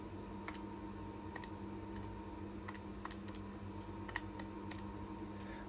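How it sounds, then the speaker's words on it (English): Quiet key presses on a calculator as numbers are entered, a series of soft, irregular clicks over a faint steady hum, with no talking. "when you type that into your calculator"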